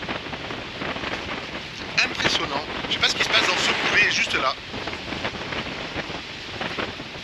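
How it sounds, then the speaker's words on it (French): Strong wind gusting over a sailing boat at sea around 20 knots, a loud roaring rush with a harsher surge mid-clip, while someone talks over it. "il y a des pointes de vent qui sont à 20 nœuds"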